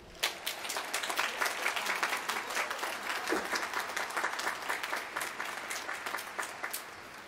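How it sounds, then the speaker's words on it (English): Audience applause at a law school class day ceremony for the graduating class of 2018, sustained crisp clapping from a large crowd in a hall, moderately distant and continuous. "How about some applause for the great class of 2018?"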